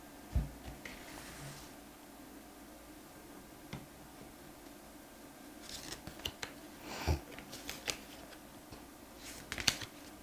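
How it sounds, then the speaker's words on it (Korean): Tarot cards shuffled and drawn from a deck at a table, giving soft scattered riffles and a few crisp slaps and flicks, faint and close, with no talking. "그리고 필요한 조언 카드를 좀 더 뽑아보도록 하겠습니다."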